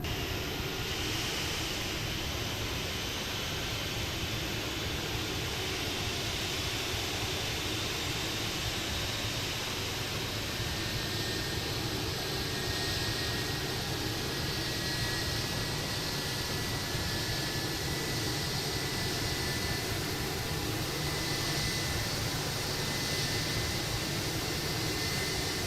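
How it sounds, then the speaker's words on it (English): ToLiss A320 engine spooling up in the X-Plane 12 flight simulator with the BSS soundpack: a constant, loud broadband roar and whine with faint rising tones, steady throughout with no voices. "as the engine starts"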